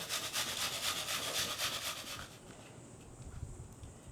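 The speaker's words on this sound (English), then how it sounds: "I like grating it because it distributes the flavor of onion better into the meat" Half an onion scrapes rhythmically against a grater in quick back-and-forth rubbing strokes, close and fairly quiet, stopping after about two seconds and leaving faint kitchen noise.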